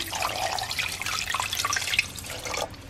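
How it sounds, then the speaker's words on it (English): Water pours steadily into a pot for boiling beef bones, with a bright, splashing gurgle for a few seconds, then tapers off. "So I'm gonna put water."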